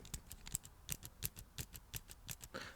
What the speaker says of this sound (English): But yeah, some clicky sounds.